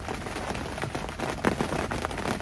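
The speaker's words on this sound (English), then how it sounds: "Fucking rain." Rain patters steadily on leaves above an angler fishing beneath a large tree beside a gravel pit, a dense continuous hiss with scattered sharper drops.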